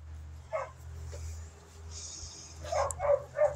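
Dogs playing outdoors in snow, giving a few short barks and yips, one brief burst early and a cluster of sharper, louder barks near the end over a steady low background hum.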